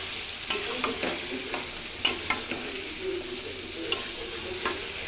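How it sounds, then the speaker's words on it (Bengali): Meat for two frying in a pan on a home stove, with steady sizzling and a few sharp stirring scrapes spaced through the clip, close by and moderately loud, no voices. "রান্না চলতেছে।"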